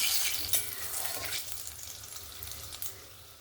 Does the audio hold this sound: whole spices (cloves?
yes